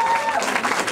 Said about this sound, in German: Nochmal einen riesen Applaus